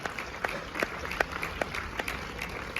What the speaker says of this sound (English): Give a huge round of applause for our panel for enhancing employment with